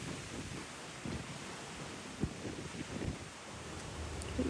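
Strong, cold wind gusting outdoors at a 17th-century farmhouse, a steady broad roar with buffeting surges on the microphone and no talk.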